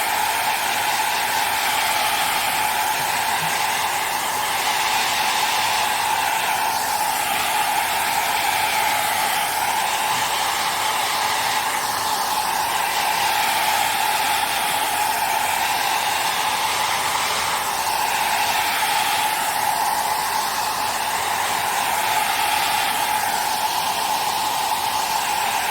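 A hair dryer blows steadily to dry wet paint on a mixed-media art journal page, a loud continuous whooshing hiss with a slow wavering tone as it sweeps back and forth, with no voices.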